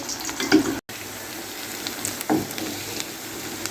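Shami kababs sizzle and spit in hot ghee in a pan as they are flipped, a steady frying hiss with a brief cutout and a couple of soft scraping knocks.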